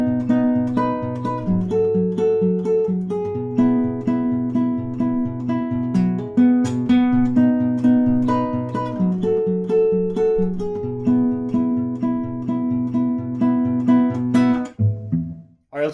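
An acoustic guitar plays a fingerpicked intro, a steady repeating pattern of plucked notes over low bass notes for about fifteen seconds, close and clear, ending with a brief muted scrape.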